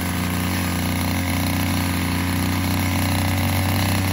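A grass cutter engine runs steadily nearby, a constant buzzing drone with no pauses across the few seconds.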